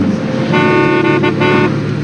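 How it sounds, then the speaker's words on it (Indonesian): A car horn honks in two short blasts, loud and close, over the low hum of a running engine. "Aku klakson"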